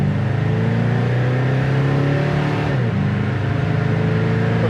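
A 1965 Ford Mustang accelerating hard in first gear, engine rising in pitch as it climbs, loud and close from inside the car, briefly dipping at a shift before pulling again.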